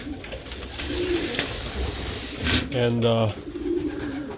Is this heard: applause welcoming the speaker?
no